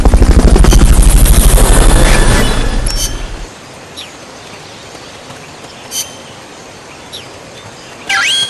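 A helicopter in the video game Metal Gear Solid Peace Walker HD roars with loud, rapid rotor chopping that fades out after a few seconds, followed by quiet background with scattered short clicks and bursts.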